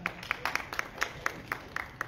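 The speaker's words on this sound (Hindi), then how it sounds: "अफजल साहब के लिए बहुत सारी तालियां।" Light, sparse clapping from a small audience at a school silver jubilee lucky draw ceremony, with a steady beat of distinct claps at moderate distance and quiet throughout.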